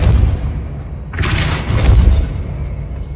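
A Depulso spell cast in the video game Hogwarts Legacy lands as a loud booming burst with a bright whooshing blast, over a rumbling low game backdrop, with no talk.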